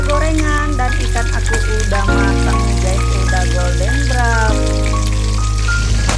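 Fish frying in hot oil in a home kitchen, a continuous crackling sizzle heard beneath steady background music, close and even throughout.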